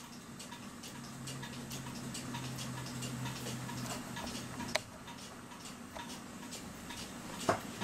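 A cuckoo clock movement ticks steadily and softly at close range, a regular even beat with a couple of louder clicks near the end over a faint low hum.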